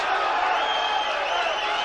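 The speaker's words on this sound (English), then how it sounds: "Draws some cheers from the crowd" A boxing-arena crowd at a Larry Holmes vs Art Card fight lets out a steady, distant roar of cheering throughout, with no distinct voices.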